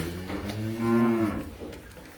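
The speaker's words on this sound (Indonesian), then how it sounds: "Sapi putih, sapi peranakan ongol." A white Ongole crossbred cow gives one long, fairly near moo, rising and then fading, with no talk over it.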